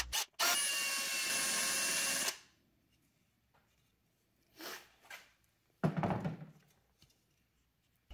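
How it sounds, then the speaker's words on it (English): A power drill bores out the rivet stud on a Cen-Tech 69368 battery charger, a loud high whine for about two seconds, followed by clunks and rattling handling noises as metal parts are moved. "Let's drill this little stud out, because there's no way to get to these diodes without drilling out the rivet."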